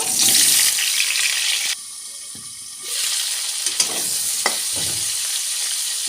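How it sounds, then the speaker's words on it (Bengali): Ivy gourd pieces fry in hot oil with a loud, dense sizzle that drops briefly, then returns with clicks and scraping as they are stirred in the pan. "এবার দশ মিনিট মেখে রাখার পর কুঁদরিগুলো তেলে ভেজে নেব"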